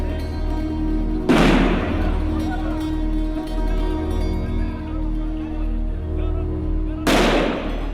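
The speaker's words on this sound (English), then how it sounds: "Israeli soldiers have kept the young Palestinians at bay with sound grenades" Two loud, sharp sound grenade blasts fired by soldiers to disperse young crowds, each a sudden bang with a rumbling tail, several seconds apart over steady background noise.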